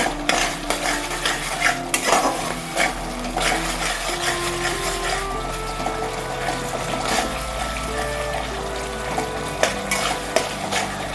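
Spice paste fries in oil in a pan for a Bengali lentil kofta curry. It gives a steady, dense sizzle, and repeated scraping strokes of a spoon stirring it run through the whole stretch, close and fairly loud.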